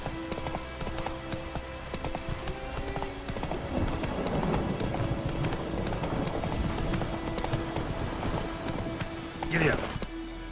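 Horse hooves in The Witcher 3 beating in a quick rhythmic gallop, moderately close, with a brief whinny near the end and game music and a voice underneath.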